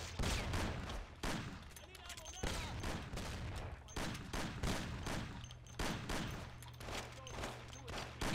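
Shotgun blasts in the crime game Mafia, heavy booming reports fired in quick succession among other shots, loud and near, while a voice talks over parts of the fighting.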